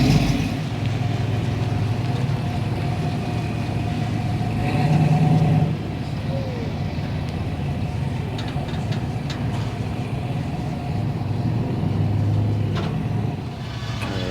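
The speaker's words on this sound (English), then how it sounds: "Monte Carlo rolling in" A Chevrolet Monte Carlo rolls in at a car show and drag race at Irwindale Speedway, its engine giving a low steady rumble with brief swells in revving, close by over outdoor background noise.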